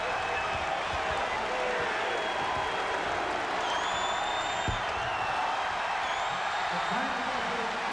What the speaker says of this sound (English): the partisan Massachusetts crowd enjoys the final moments